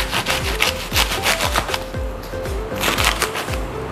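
A knife saws through a fresh artichoke, trimming around the heart in a close series of rhythmic scraping strokes, each ending in a soft thud on the board.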